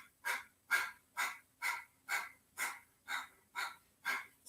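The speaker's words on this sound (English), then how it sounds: "But we're going to do the breath of fire. So inhale deep in through the nose." Yoga breath of fire: a quick, steady run of about nine forceful nasal exhalations, each a sharp puff of air close to the listener, with no talking.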